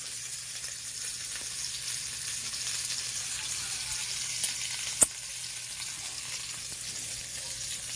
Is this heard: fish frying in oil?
yes